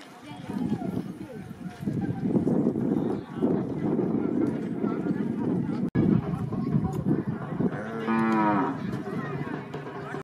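Hooves clatter as horse and bullock carts race at a village fair festival, set in a steady roar of crowd noise and shouting voices, with a bullock lowing briefly near the end.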